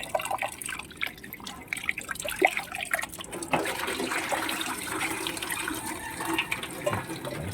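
Purified water pours and splashes into a container, a wet trickling rush with scattered drips that grows fuller and steadier in the second half, no voices.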